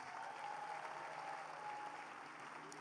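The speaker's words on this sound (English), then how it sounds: "Please clap your hands." An audience clapping at a morning conference session, a continuous patter of many hands heard faint and distant throughout.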